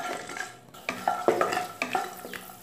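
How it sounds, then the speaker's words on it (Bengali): Raw peanuts fry in a pan, giving a close, crackling sizzle broken by repeated scraping stirs of a utensil against the pan, with no talking. "বাদামটা দিয়ে 1-2 মিনিটের মতো একটু ফ্রাই করে নেব।"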